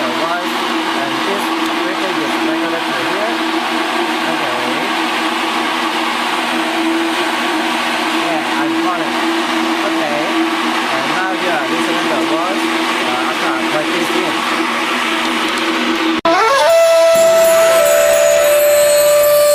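Large industrial fan running during a wind-noise test, a steady loud broadband roar with a persistent hum that shifts abruptly near the end as another tone enters, close and continuous.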